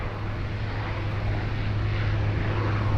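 An Air India airliner taxiing at Sydney Airport in heavy rain gives a loud, steady jet engine hum and rumble, continuous and fairly near, with no talk.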